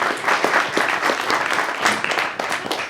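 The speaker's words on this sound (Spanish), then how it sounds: "se da un aplauso, por favor" Audience applause at a literary talk on Twin Peaks, a dense, steady crowd clapping that stays fairly loud and even for about three seconds with no voices on top.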